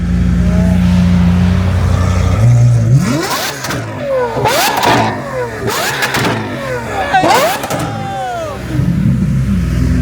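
A Lamborghini SVJ supercar revs repeatedly at a street gathering, with a steady idle and then a series of loud, sharp bursts of revving, and people talking nearby.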